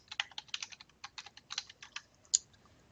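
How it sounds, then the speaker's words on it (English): Rapid typing on a computer keyboard, a quick irregular run of close, crisp key clicks with short pauses and one sharper final tap, with no voices. "another thing you can do is just go to Google and type in your ancestor's name."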